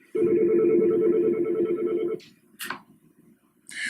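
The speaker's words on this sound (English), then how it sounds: "When calling someone internally, the ringing that is heard is a single ring, which identifies audibly the type of call that is ringing your telephone." A Medtel T54 office telephone gives the single ring of an internal call: one loud, warbling electronic tone lasting about two seconds, then a few faint clicks and a short rustle.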